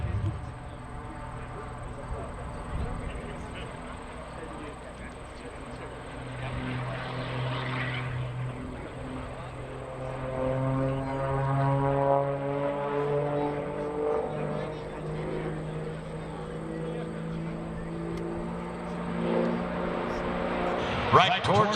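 A high-performance aerobatic propeller plane flies a high-alpha pass at an air show, its engine drone rising and falling steadily with shifting pitch over several seconds, at moderate distance, under a commentator talking over the crowd.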